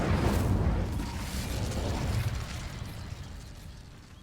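In the Hogwarts Legacy video game, the Incendio fire spell ignites dry vines with a loud, roaring whoosh and crackling burst that slowly fades over a few seconds.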